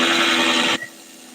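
A DeWalt 860 impact driver hammers a large fastener in a loud, dense burst of rapid impacts that cuts off abruptly after under a second, leaving a brief quiet tail.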